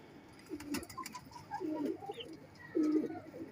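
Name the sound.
male Fulsira pigeon cooing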